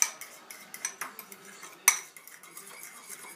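A metal utensil clinks and scrapes against a bowl or pan while salt and pepper are mixed into oil, a quick series of light, close taps, one sharper knock near the end, with no talking.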